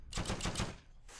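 A short burst of rapid gunfire in the video game Heroes and Generals, about four or five quick shots in a tight rhythm, moderately loud and alone.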